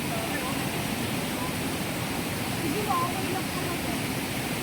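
Daranac waterfall at Batlag Falls in Tanay, Rizal roars as a steady, loud, unbroken rush of falling water, with voices faintly audible beneath the wash.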